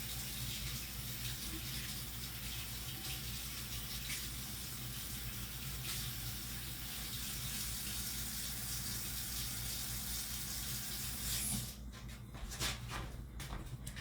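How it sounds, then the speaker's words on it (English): Tap water runs continuously into a sink while a brush is washed under it in a home kitchen. The steady rushing lasts throughout, and a few knocks and splashes follow near the end. "I'm actually gonna wash this brush out"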